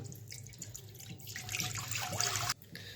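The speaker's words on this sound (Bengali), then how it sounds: "কড়াটা বসিয়ে দিয়েছি, তো দিয়ে দিব জল" Water pouring into a cooking pan (kadai) set on the stove for white sauce pasta, a steady splashing stream running close and loud for about two and a half seconds before cutting off, with no talk over it.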